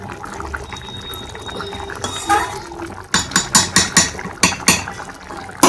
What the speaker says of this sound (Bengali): আর কিছুক্ষণ ফুটিয়ে নিয়ে নামিয়ে নেবো